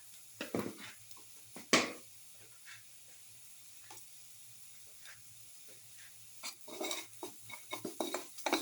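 A spoon stirring and mixing spices through a tomato and cottage cheese casserole dish, with scattered scraping clinks, a sharp knock early on and a busier run of taps toward the end over a faint background hiss.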